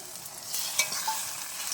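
Onion with ginger-garlic paste frying in a pan, a steady close sizzle with a few brief stirring clicks and scrapes, no voices.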